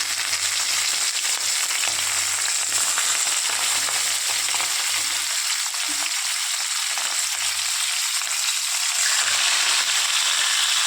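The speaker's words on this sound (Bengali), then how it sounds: "প্রথমে দেখুন, আমি মাছগুলোকে ভেজে নিচ্ছি।" Fish frying in a pan, a steady dense sizzle of hot oil that stays loud and constant throughout, with faint low clinks or stirring in the background and no voices.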